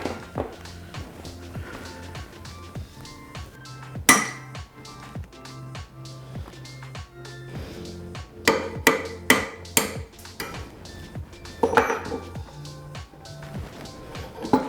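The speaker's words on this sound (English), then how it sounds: "I need a hammer and a chisel." Sharp metallic strikes of a hammer and chisel on motorcycle metal ring out repeatedly, some in quick bursts of several blows, with clinks and scraping between them and no talking.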